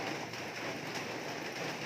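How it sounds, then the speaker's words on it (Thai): Steady rain falling on a surface, a dense continuous patter at even loudness throughout, with no voices. "ฝนตก"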